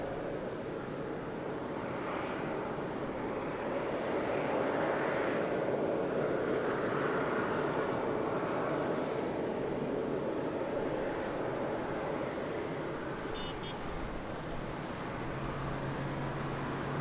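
An airplane comes in to land on runway 20 at Lisbon Airport on a rainy morning, a broad, steady jet roar heard from a distance that swells and fades slightly over the whole stretch.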